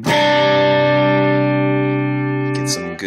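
An electric guitar chord rings through a modded Boss DS-1 distortion pedal set to LED clipping mode, giving a crunchy, sustained tone that decays slowly before a short scrape of string noise at the end.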